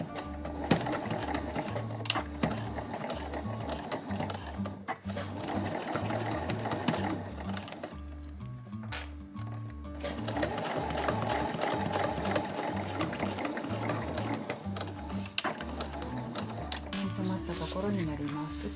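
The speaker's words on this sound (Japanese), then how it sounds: "端から5ミリを縫いましょう。" Sewing machine stitching over laminate fabric with a laminate presser foot, a continuous close rhythmic chatter of the needle with short pauses and restarts, including a brief stop around the middle.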